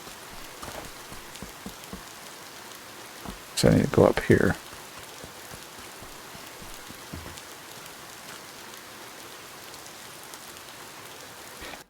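Steady rain in the video game Alaska Gold Fever, a constant soft patter and hiss throughout, with someone talking briefly and a short louder clatter partway through.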